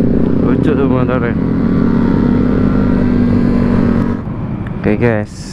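A Honda Scoopy scooter rides along a rough road, its engine droning loud and steady with rising and falling revving, and voices talk briefly over it near the start and the end.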